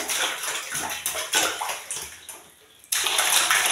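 Water splashes and pours in a home bath as a child is washed, with loud gushing bursts that pause briefly and then resume close by.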